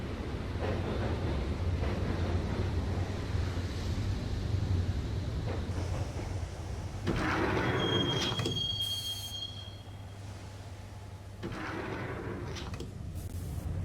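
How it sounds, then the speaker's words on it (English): A subway train in the Max Payne video game runs with its doors shut, a loud steady rail rumble with wheels squealing and a brief high metallic screech partway through. "the train doors had already shut behind me, and I was in for the ride"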